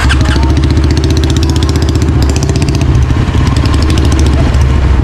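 A friend's new motorcycle idles close by, its engine thrumming in a steady, loud, even rhythm with slight mechanical clatter and no other sounds over it.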